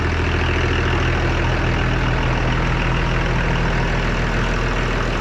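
The diesel engine of an Oliver 1800 tractor idles steadily and loudly, a constant low rumble with a rhythmic chug, running alone without any voices.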